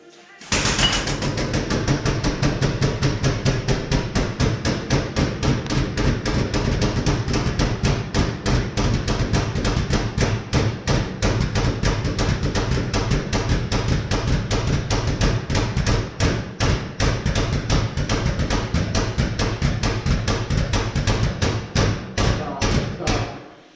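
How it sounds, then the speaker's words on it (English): A custom-built press brake bends half-inch steel flat bar with a long run of rapid, loud mechanical knocks and thuds, steady for over twenty seconds before stopping abruptly. "We're gonna see how this press brake does."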